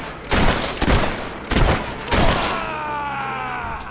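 Gunfire in the video game Fable 3: several loud, close sharp shots in quick succession, each with a booming tail, followed by a fading ringing decay.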